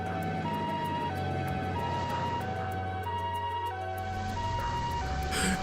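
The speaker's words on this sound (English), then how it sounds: "An ambulance." Ambulance siren from the video game The Legend of Heroes: Trails to Azure, a steady repeating two-tone wail over a low engine-like drone, fairly close and continuous.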